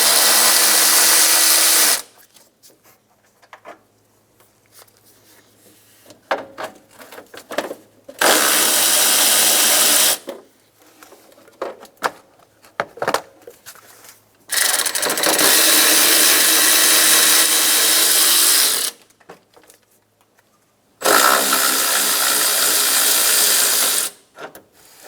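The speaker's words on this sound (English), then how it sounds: "Remove the 4 bolts for the fan shroud using a 10mm socket." A ratchet with a 10mm socket spins out fan shroud bolts on a 2000-2006 Toyota Tundra, four loud, close bursts of rapid clicking separated by quieter pauses with light handling noises.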